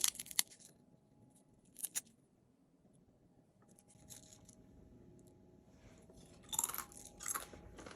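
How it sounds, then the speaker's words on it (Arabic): Crunching of homemade oil-free Pringles-style potato chips baked on parchment, a few crisp close snaps and crackles separated by quiet gaps, louder near the end. "سامعين كمان صوت القرمشه بتاعتها"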